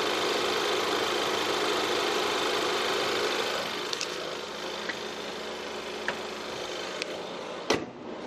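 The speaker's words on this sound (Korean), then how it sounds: "바로 엔진 소리부터 한번 들려드릴게요" A well-maintained Ford Explorer full-size SUV idles with its hood open, giving a steady, smooth engine hum up close, joined near the end by a few faint clicks and one sharp knock.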